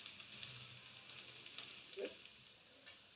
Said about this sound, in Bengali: তেলটা গরম হচ্ছে, সেই সময় আমি রসুনটা দিয়ে নেবো, যেটা কুচি কুচি করে কেটে রাখা হয়েছে।